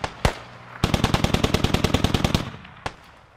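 Automatic gunfire from the video game Squad: a single sharp shot, then a rapid burst of about fifteen evenly spaced rounds, loud and close, with one more isolated shot after a pause.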